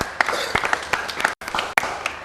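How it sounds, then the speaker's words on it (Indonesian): At a cultural lecture event, an audience gives a thin, scattered round of claps, with sharp individual hand strikes standing out against quiet room tone and a brief drop-out midway. "ya tepuk tangan"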